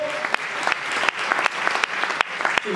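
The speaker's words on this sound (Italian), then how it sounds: "Grande applauso, facciamo questo grande applauso." An Italian show audience claps loudly and close, in dense uneven applause with a few sharp louder claps standing out, and a voice may come in briefly at the end.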